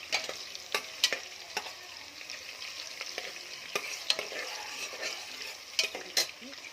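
Onions fry in a pan for white kushka chicken gojju, giving a steady, close sizzle broken by sharp, repeated stirring scrapes and clanks, with no talking.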